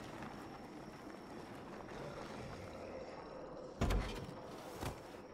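A truck engine idles in neutral in the video game The Walking Dead: A New Frontier: a steady low rumble that runs throughout, with a short knock or thump near the end.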